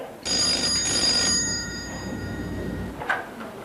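A telephone bell rings in a domestic scene from a Kannada television drama: one clear, bright ringing burst near the start that stops abruptly, leaving faint room noise and a soft knock near the end, with no talking.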